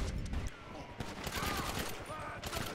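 Gunfire from a weapon in Grand Theft Auto V, a rapid volley of several sharp shots with the game's ambient sound beneath.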